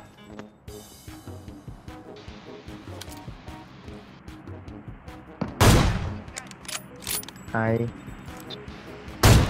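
Video game gunfire: a few sharp, loud shots burst out in the latter half amid quieter game clatter, while people talk throughout.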